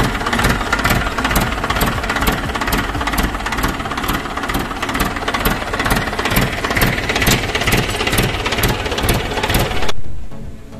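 A tractor engine runs steadily during an oil change, a loud continuous rhythmic chug with regular knocking pulses that cuts off near the end.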